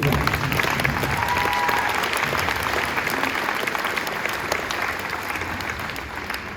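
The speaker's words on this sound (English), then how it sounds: "Let's give them a round of applause." Sustained applause from a large concert audience, dense clapping that holds steady and slowly tapers off, with faint crowd murmur beneath.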